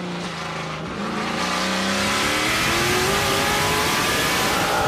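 NASCAR Pinty's Series stock cars, including a Dodge Challenger, racing at a summer classic event at ICAR, loud engines revving and climbing in pitch as they pass, with a continuous roar filling the whole clip.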